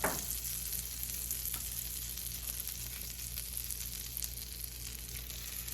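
Butter sizzling in a hot, unwashed pan for steak and shrimp hibachi, a steady crackling hiss that carries on evenly with no talk.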